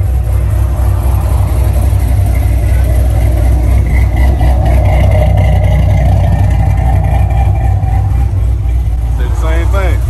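A Dodge Charger 392 Scat Pack V8 fitted with a 3-inch MBRP exhaust rumbles steadily at idle and light revs, loud and deep throughout, with people talking over it nearby.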